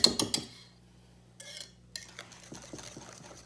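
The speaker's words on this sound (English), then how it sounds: "I think we got those eggs beaten in there now, finally." Eggs are whisked in a bowl, with a quick burst of rapid metal-on-bowl clinks, a short scraping stir after a pause, then lighter scattered taps and clinks nearby.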